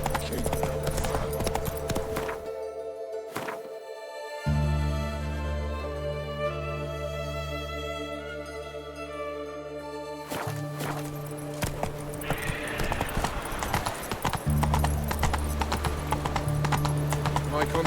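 A horse's hooves clip-clop in a steady rhythm in The Witcher 3 video game, close and clear, with game music and voices underneath.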